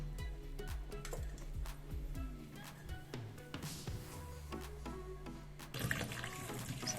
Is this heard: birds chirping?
no